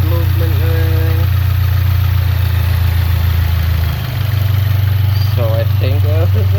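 A 2022 Subaru WRX engine idles in a steady, loud low hum after a drive belt replacement, close and unbroken, with brief speech near the start and end.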